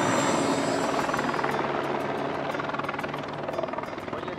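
A helicopter flies over the mountains of Andorra, its rotor chopping in a fast, steady pulse with engine whine, loud and close throughout and easing slightly toward the end.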